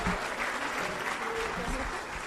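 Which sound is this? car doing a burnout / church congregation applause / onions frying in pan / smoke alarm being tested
church congregation applause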